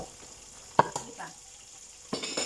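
Tomatoes and onions cooking in a pan for spaghetti with sardines, giving a low steady sizzle broken by a few sharp clinks and stirring scrapes, with a louder burst of stirring near the end.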